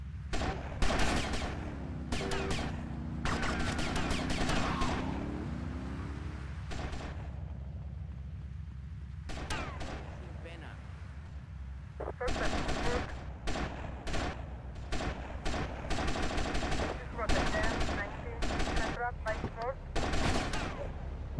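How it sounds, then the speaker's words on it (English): Gunfire from the video game Grand Theft Auto: Vice City, with dense bursts of shots and rapid automatic fire in clusters, separated by quieter gaps with fainter game sounds. "Oh, who's shooting me from behind?"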